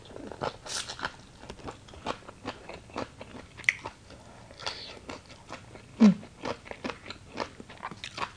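Crunchy raw eggplant is bitten and chewed alongside spicy papaya salad with rice noodles, producing repeated close, crisp crunches and chewing sounds at an irregular pace.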